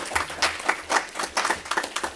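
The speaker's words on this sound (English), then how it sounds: "give him a round of applause" A crowd at a Villa Rica city event gives a round of applause: uneven, overlapping hand claps in loose rhythmic bursts, fairly close and loud.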